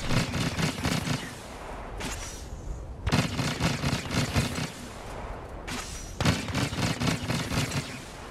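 Rapid-fire EE4 blaster shots in Star Wars Battlefront, coming in three dense, sustained bursts separated by brief pauses, loud and close with no talk.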